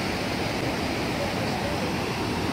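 A waterfall and river at Falls Park in Sioux Falls, South Dakota give a steady broadband roar that fills the scene, constant and fairly close.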